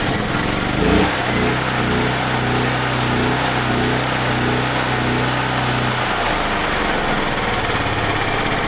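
An ETQ 7250 watt portable generator running with auto throttle, a loud steady engine drone close by that thrums evenly, then settles and drops lower partway through, no talking.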